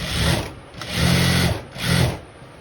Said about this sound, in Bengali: এইভাবে সেলাই করব।